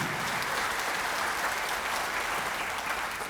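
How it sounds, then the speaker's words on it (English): Concert-hall audience applauding at a band performance, a dense, even wash of clapping from many hands that holds steady throughout. "Can we give them all a big round of applause?"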